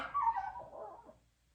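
A dog whimpers and yips softly near a gate, wanting to go outside, in a short faint whine that trails off into quiet.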